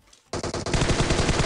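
Automatic gunfire in Battlegrounds Mobile, a player spraying bullets into smoke: after a brief quiet start, loud rapid bursts of shots erupt and continue in a dense, steady rattle with no voices.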